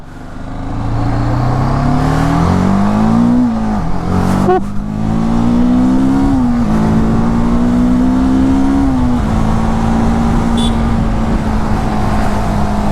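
A TVS Apache 310 motorcycle engine revs steadily while riding, its pitch rising and falling through several throttle changes before settling into a sustained drone, loud and close throughout with no voices.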